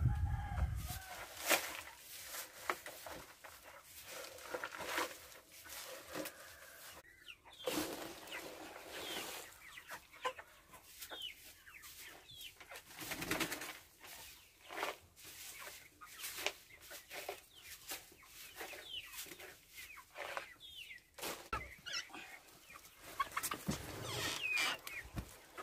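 Chickens cluck and a rooster crows inside a farm chicken house, with steady overlapping clucks and calls throughout against a busy barnyard background.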